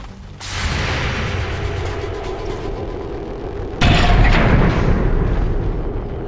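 Two heavy booming blasts from weapon fire in XCOM 2, the second louder, each followed by a sustained rumbling roar.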